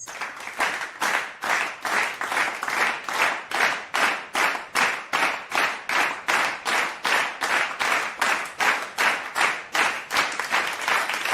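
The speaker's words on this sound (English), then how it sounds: "So let's all have a great round of applause for Chasing, please." A small audience claps steadily and evenly for about eleven seconds, welcoming a speaker onto a talk show stage, with no voices over it.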